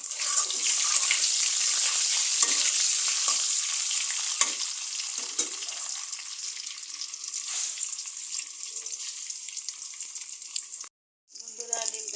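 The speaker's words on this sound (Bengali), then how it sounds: "ভেজে নেই" Egg mixed with turmeric fries in a pan, giving a steady bright sizzle throughout with occasional stirring scrapes, then a brief drop to near silence near the end.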